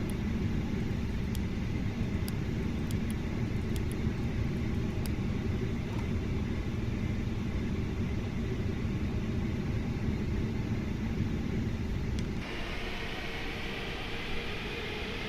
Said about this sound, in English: Please prepare for takeoff.